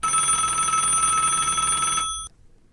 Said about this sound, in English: And then her phone rang again.